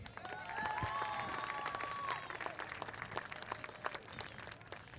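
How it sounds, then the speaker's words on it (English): Audience at a school pep rally in Brownsville applauding, a fairly faint, distant patter of many hands with a few raised voices and whistle-like cheers early on, tapering gradually. "Nice round of applause for our interim board member, Tim Ramirez."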